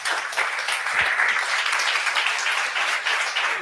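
A church congregation claps for Jesus at a worship service, a continuous, even wash of applause from many hands, moderately loud and unbroken for a few seconds.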